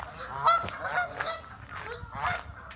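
Several loud, nasal honks and quacks from waterfowl nearby, coming in quick irregular bursts with short pauses between.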